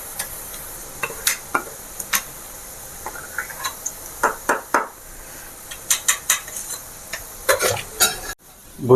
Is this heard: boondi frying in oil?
yes